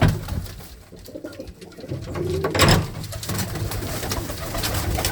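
Caged pigeons coo in low, throaty calls at a breeder's loft of various colored birds, several voices overlapping steadily at close range with a busy ambient background.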